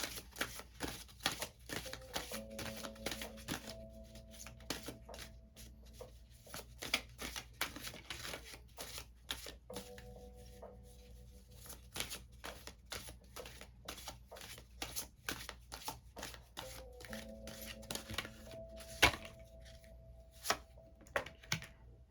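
Soft, repeated riffling and tapping of an oracle card deck being shuffled, crisp snaps in an irregular rhythm, close by and fairly quiet, with a faint low tone underneath.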